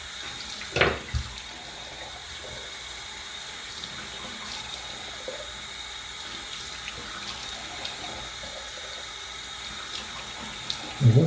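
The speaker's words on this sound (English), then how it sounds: "I rinse with hot water as hot as you can stand it" Hot tap water runs steadily into a sink during rinsing after a shave, a continuous close hiss and splash with a couple of brief louder clunks near the start and end.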